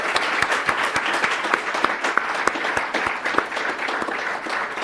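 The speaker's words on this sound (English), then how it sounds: "But I want to give them a round of applause." Audience applause at a conference closing ceremony, dense continuous clapping from a sizable crowd at an even level for several seconds.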